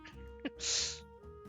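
A single quick sneeze, a sharp burst after a brief intake of breath, fairly faint against a quiet background.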